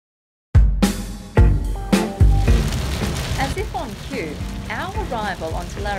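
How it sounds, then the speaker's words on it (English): Early wet season rain on Larrakia country near Darwin patters and hisses steadily after a few sharp thuds at the start, with voices talking over the downpour. "Arrival onto Larrakia country was met with some very early wet season rains"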